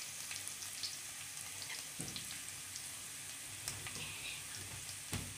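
Fennel seeds, ginger and garlic fry in a pan, a soft steady sizzle with occasional sharp pops and stirring clicks, quiet and without talk.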